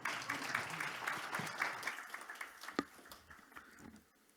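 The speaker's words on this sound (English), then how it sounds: "A big round of applause, please." Audience applause at a functional medicine symposium as the next speaker is welcomed, a broad patter of clapping that fades and thins toward the end.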